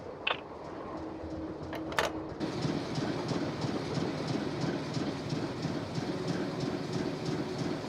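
A video game train in Nancy Drew: Last Train to Blue Moon Canyon rolls along the rails with a steady clickety-clack rhythm, preceded by a couple of sharp metallic clanks, continuous and fairly close.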